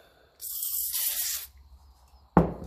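A can of aerosol spray is aimed at the thermostat housing of a Ferguson 20 TEF diesel engine. It gives one steady hiss lasting about a second, and a sharp knock follows a moment later.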